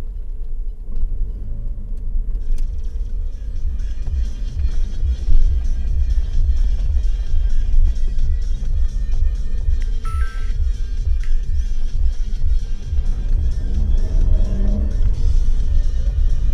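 A car driving along a road as recorded by an inexpensive Full HD dashcam mounted inside, with a steady low rumble of engine and tyres from within the cabin and occasional faint clicks, no talking.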